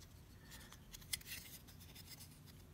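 Small cutting tool snips at a plastic model submarine kit part, producing faint, close clicks and scraping rubs with one sharper snap midway, in a quiet room.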